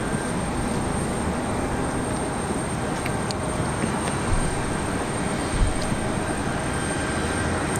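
A Republic Airways Embraer E175 regional jet departing makes a continuous loud engine rumble and whine, steady throughout with faint clicks over it and no speech.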